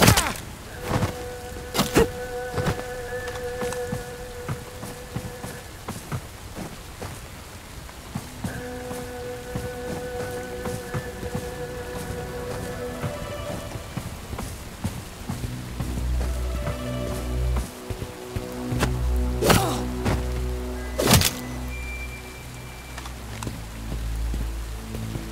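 Steady rain falls throughout a Bright Memory: Infinite mission, a continuous patter with scattered sharp drips and thuds, while tonal game music and a low rumble swell beneath it toward the end.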